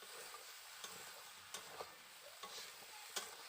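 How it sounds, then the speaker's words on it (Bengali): Ridge gourd and potato are stirred with spices in a pan, giving a steady soft sizzle broken by several sharp spatula scrapes and clicks, close and fairly quiet, with no talking. "ভালো করে একটু সময় ধরে কষে নিচ্ছি ঝিঙ্গে আলুটাকে"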